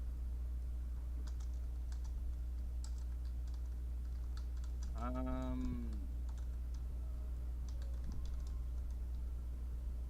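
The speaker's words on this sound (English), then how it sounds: "I was busy typing words." Computer keyboard typing during an online game session: scattered soft key clicks in short bursts over a steady low hum, with a brief tonal in-game sound partway through.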